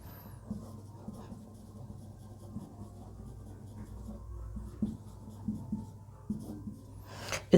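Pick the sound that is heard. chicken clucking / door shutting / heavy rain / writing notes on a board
writing notes on a board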